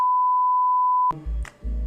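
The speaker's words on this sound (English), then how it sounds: "Beep." A single steady electronic beep tone holds for about a second, then cuts off abruptly into low thumping background noise.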